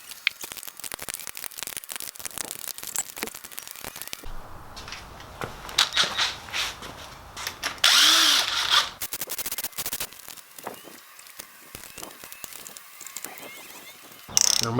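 An impact or power tool rattles out 17 mm crank girdle bolts on an RB25 engine during a teardown, with repeated bursts of buzzing, ratcheting clatter broken by short pauses, close and fairly loud.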